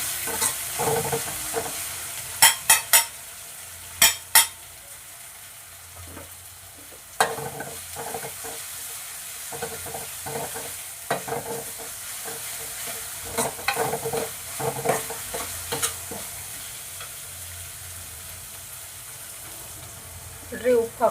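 Fenugreek leaves with pounded chilli fry in a pan for a curry, with steady soft sizzling under repeated stirring clatter and occasional sharper utensil scrapes and taps.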